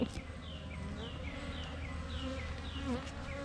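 Honey bees from a new colony buzz around their hive up close. A steady drone is layered with individual bees zipping past in rising and falling sweeps.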